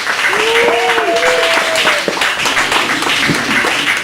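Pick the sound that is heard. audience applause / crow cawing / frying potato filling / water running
audience applause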